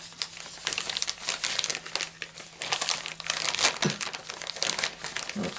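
A package of wet wipes crinkles and rustles as it is handled up close, soft plastic crackles coming in uneven bursts at a fairly faint level, with no voice over it.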